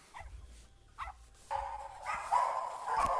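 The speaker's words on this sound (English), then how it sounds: "They're barking." A dog barks a few times nearby with short yips, followed by louder, more continuous barking and whining from more than one dog.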